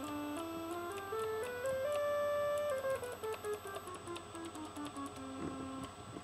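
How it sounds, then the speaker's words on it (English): A pure, smooth sine wave tone from an analog synthesizer with a QWERTY keyboard glides up and down in pitch through a simple melodic line, with faint clicking ticks in the background. "Here's the sine wave."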